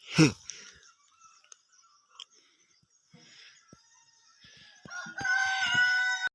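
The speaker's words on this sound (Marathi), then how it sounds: "आणि इकडे कोंबडी." A chicken calls out briefly at the start in Shirale village, Maharashtra, followed by quiet scattered noises and then a louder burst of high, harmonic bird calls near the end.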